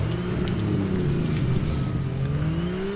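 A turbocharged or supercharged car engine in Fortnite drones steadily and loudly, its pitch slowly climbing as it accelerates, with no talk over it.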